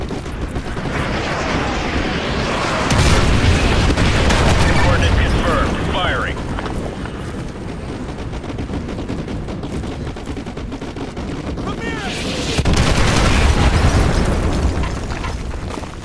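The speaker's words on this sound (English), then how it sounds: "Ramirez, use your laser designator to call in artillery on those vehicles. Fire mission received. Artillery inbound." Heavy artillery shells explode in Call of Duty: Modern Warfare Remastered, two big rumbling booms about ten seconds apart with debris crackle and distant gunfire between, while radio voices talk.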